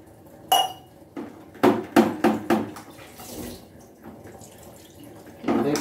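Water rinsing through an emptied RO water purifier membrane housing from a Max Pure Vontron 75 GPD unit, with several sharp hollow knocks and splashes in an irregular burst, then softer sloshing and a final splash, no speech.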